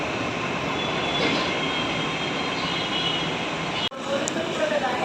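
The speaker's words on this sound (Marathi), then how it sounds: "फायनली मी मेट्रोमध्ये बसलो आहे आणि आता ही मेट्रो स्टार्ट झाली" A Mumbai Metro train starting and running, heard from inside the carriage as a loud, steady rumble and hiss that drops out sharply for an instant before resuming.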